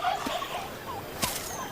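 Domesticated turkeys gobble and call in a brief burst of warbling fowl sounds, moderately near, with a sharper gobble rising near the end over a steady background.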